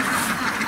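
Ducks quack in a brief burst at a duck farm, a dense nearby chorus of overlapping calls.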